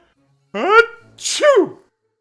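A storyteller reading The Tale of Peter Rabbit aloud imitates a big sneeze with his voice: a rising intake followed by a sharp, breathy burst, close and clear, once, against silence.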